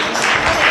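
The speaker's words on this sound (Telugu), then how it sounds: "అందరు క్లాప్స్ కొట్టండి." Children and adults clapping together at a Vacation Bible School session in Kurnool, a dense, steady wash of applause filling the room with no voices on top.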